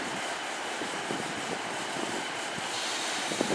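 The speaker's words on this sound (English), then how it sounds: "I'm ready to go now is the 1018 Great Western Railway service to Paignton, formed of 150127 and" A Great Western Railway diesel train of units 150127 and 153318 pulling out for Paignton at Exeter St David's, a steady rumbling engine and wheel noise with faint clanks, sustained and close throughout.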